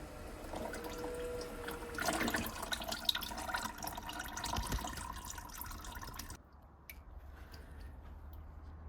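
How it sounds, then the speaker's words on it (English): Oil drips and trickles from the oil filter housing of a 2.0 petrol automatic VW Passat B6 during an oil and filter change, a steady close liquid patter with no talk. "You might get some oil dripping out of there, so just be aware of that."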